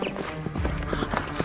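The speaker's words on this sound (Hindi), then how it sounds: "राजा का घोड़ा तेजी से दौड़ रहा है।" A king's horse galloping fast, with rapid rhythmic hoofbeats repeating steadily across a short burst, loud and close, and a faint whinny-like tone above the pounding.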